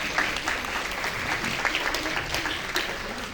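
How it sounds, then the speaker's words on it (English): Sustained audience applause for the host of an annual cemetery event, a steady dense wash of clapping filling the whole stretch at an even moderate level. "please let's give Lina a big round of applause"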